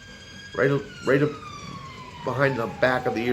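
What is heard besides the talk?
police car siren passing by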